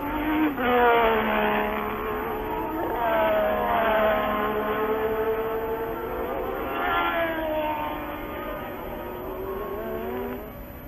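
Formula 1 race cars from the early 1980s howl around the track, their engine whines rising and falling in pitch as several cars pass in sequence, with a muffled, broadcast-quality sound.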